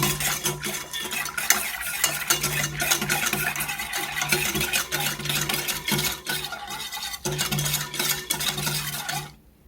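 A glutinous rice flour mixture for white cabbage kimchi being whisked in a bowl, rapid repetitive scraping and clicking strokes, close and fairly loud, continuing steadily before stopping abruptly at the end.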